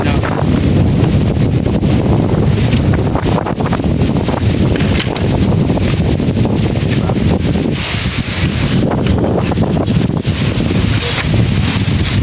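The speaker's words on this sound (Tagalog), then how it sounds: "Lakas ng hangin ngayon." Strong wind, with a storm approaching, roars and buffets the microphone continuously, loud and close, with a low rumbling rush and no voices.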